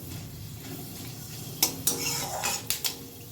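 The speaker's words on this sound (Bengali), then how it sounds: "ভালো করে একটু ফোড়নটাকে কয়েক সেকেন্ড নাড়াচাড়া করে নেব।" A spoon stirs and scrapes a spice tempering of bay leaf, two dried chillies and fenugreek seeds in oil over a low flame for a bitter dal: a soft background hum, then a handful of sharp metallic clinks and scrapes, no talking.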